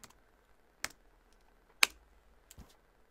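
A few sparse keyboard clicks, three distinct keystrokes spaced about a second apart, close and fairly quiet over a faint background hum while a short terminal command is typed.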